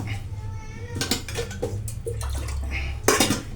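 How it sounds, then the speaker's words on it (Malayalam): Water added to gram flour in a bowl for kneading dough, with clinking of dishes and a brief pour of liquid, close and fairly clear, under some background talk. "ഇതൊന്ന് കുഴച്ചെടുക്കാൻ ഇച്ചിരി വെള്ളം നമുക്ക് എടുക്കാം"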